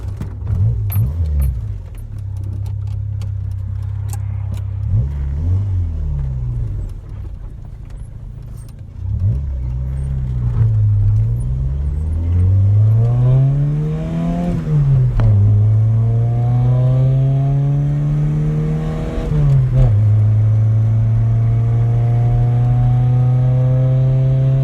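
Renault 11 with a 1.4 engine driving and accelerating hard, its revs climbing and dropping through several gear changes in rising sweeps, loud and close from inside the car, no talking.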